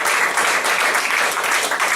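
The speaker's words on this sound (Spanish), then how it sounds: "Dale un aplauso a Jesús" A church congregation at a Spanish-language service claps together for Jesus, a brief, dense and steady burst of applause filling the room.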